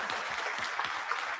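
Audience applause rings out at a TEDx event at Central Michigan University after the final speaker, a bright, dense patter of many hands clapping steadily throughout, with faint voices mixed under it.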